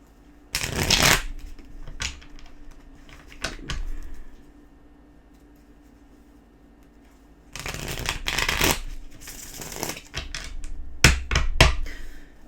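Tarot cards being shuffled close by in two bursts of crisp riffling and flapping, separated by a quiet pause with a few isolated taps and card handling in between.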